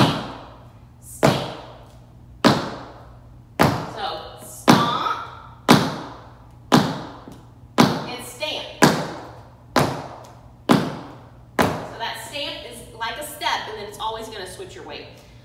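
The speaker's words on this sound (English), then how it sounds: "A stamp has a very similar sound, but I'm putting my weight down." Tap shoes strike a hard floor in a run of beginner tap-dance stamps made with full weight, a dozen or so sharp close thuds about one per second, later ones quicker and mixed with a person talking.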